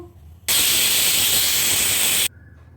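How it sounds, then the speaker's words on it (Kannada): A pressure cooker releases a single loud, continuous burst of steam hiss lasting nearly two seconds, starting and stopping abruptly against a quiet kitchen background. "ಕುಕ್ಕರ್ ಮುಚ್ಚಳ ಮುಚ್ಚಿ 4 ವಿಷಲ್ ಬರೋ ತನಕ ಕೂಗಿಸ್ಬೇಕು"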